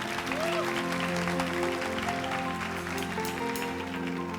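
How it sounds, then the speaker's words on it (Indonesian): Church congregation clapping during a special worship service, dense hand claps over sustained music and tones, with a voice sliding briefly above. "Yang percaya tepuk tangan."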